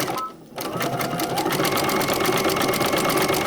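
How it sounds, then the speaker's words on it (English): Vintage sewing machine stitching a quilt with a wing needle, running at a steady moderate speed with an even rhythmic whirring and clatter after a brief dip at the start. "You really don't want to go much faster than this using a wing needle. This is a nice speed, nice constant speed."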